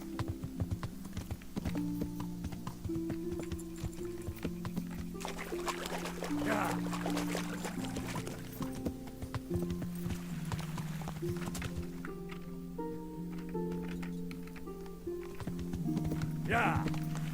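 Horse hooves clip-clop in steady rhythm in the Kingdom Come Deliverance video game, moderately close with the horse's gear rattling, beneath game music and someone talking over it.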